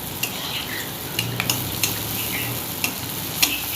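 Pakon pitha batter made with wheat flour sizzles steadily in hot oil over high heat, a continuous close hiss broken by a few sharp ticks and pops from the pan.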